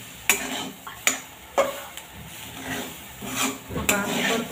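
A dish with coriander is stir-fried in a pan, close, repeated rhythmic spatula scrapes and clanks against the metal over a low sizzle, roughly five strokes in quick succession.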